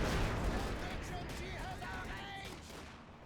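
Dense rattling bursts of small-arms and machine-gun fire from Panzer Grenadiers in the strategy game Company of Heroes 2, a steady crackling barrage that slowly fades over a few seconds.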